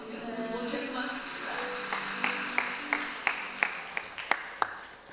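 An audience at a Korean family talk claps for the mothers, scattered applause that thins into several distinct separate claps spaced out toward the end, moderately close with a faint voice underneath.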